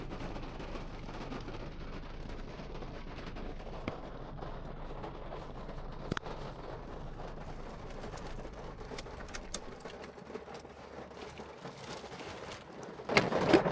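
Steady rain hisses continuously, a dense even wash of drops, with a sharp knock or thump near the end.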